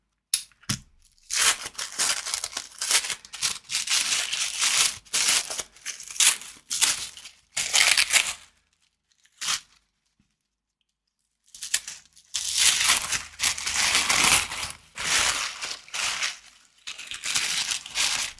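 Tarot deck packaging is cut open and peeled around a sticker, giving loud, close crinkling and tearing of plastic wrap in bursts, with a quiet pause partway through.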